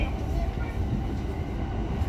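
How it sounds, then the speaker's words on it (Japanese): A Musashino Line train runs between Higashi-Tokorozawa and Shin-Akitsu, with a steady loud rumble of wheels and motor heard from inside the car. "This is a 武蔵野 line train for 府中本町。"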